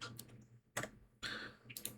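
Quiet keystrokes tapped on a computer keyboard, a few short bursts of clicks separated by brief pauses, close by and with no talking.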